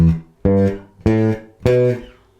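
Electric bass guitar plays four short, firmly plucked notes, one on each beat, each clipped off cleanly before the next in a steady pulse, up close and alone.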